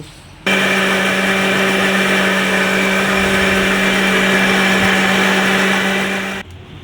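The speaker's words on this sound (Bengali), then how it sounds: "এবার ঢাকনা দিয়ে দিলাম, দিয়ে আমি মিক্সিতে ব্লেন্ড করব।" A mixer grinder blends raw mango with water. Its motor starts abruptly into a loud, steady, high-pitched whir, holds constant for about six seconds, then cuts off, with no voices.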